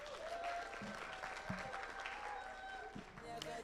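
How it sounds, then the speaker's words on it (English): Audience at a girls' leadership summit in Nairobi, Kenya applauds someone speaker, a steady wash of many hands clapping with crowd murmur mixed in, moderately near and sustained throughout. "Let's give her a hand of applause."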